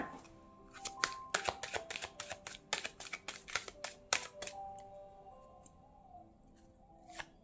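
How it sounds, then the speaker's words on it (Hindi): A deck of cards is shuffled by hand for a card reading: a rapid run of crisp, close riffling snaps and flicks that thins out into a few scattered taps near the end. "तो चलिए मैं पहले कार्ड शफल करती हूँ"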